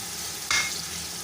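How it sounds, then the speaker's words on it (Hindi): Tomatoes frying with masala for beef pulao, a steady close sizzle with one quick bright stirring scrape partway through, no voices. "और टमाटरों को अच्छे से भून लेंगे"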